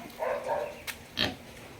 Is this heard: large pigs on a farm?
yes